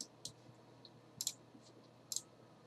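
Computer mouse clicking in a quiet room, several short sharp clicks spaced irregularly, some in quick pairs, close and fairly faint.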